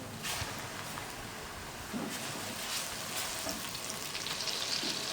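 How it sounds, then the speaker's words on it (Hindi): A continuous broad hiss of ginger-garlic paste frying in a hot pan, fairly soft and steady, with faint stirring scrapes now and then. "30 सेकंड के लिए हम इसको लहसुन अदरक के पेस्ट को भी फ्राई कर लेंगे।"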